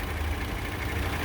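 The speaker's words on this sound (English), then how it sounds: "There's your Hyundai V6. Good condition, no funky noises." The V6 engine of a 2010 Hyundai Santa Fe idles in good condition, a steady, low, even hum with no knocks or irregular noises, quiet and continuous throughout.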